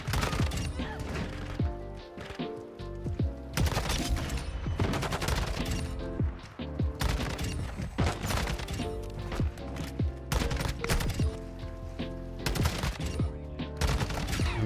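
The tac weapon fires in Call of Duty: MW2, loud, dense bursts of gunshots running nearly nonstop, with impacts and crashes mixed in and only short dips between volleys.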